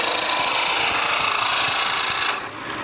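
A hand-held turning tool cuts a wooden reamer body spinning on a lathe, giving a loud, continuous close shaving and rasping hiss that eases off near the end.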